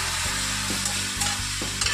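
Onion frying in oil in a pan gives a dense, even sizzle that stays loud and close, with a few soft stirring scrapes.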